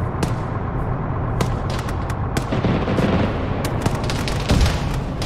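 Sustained battlefield gunfire in Arma 3, dense overlapping shots and distant booms forming a continuous loud roar with scattered sharper cracks throughout.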